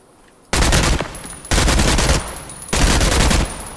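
Three long bursts of SMG automatic fire in a video game, loud and close, each rapid stream of shots lasting about a second with short gaps between.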